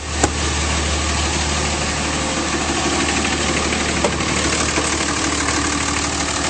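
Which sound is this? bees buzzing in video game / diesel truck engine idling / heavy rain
diesel truck engine idling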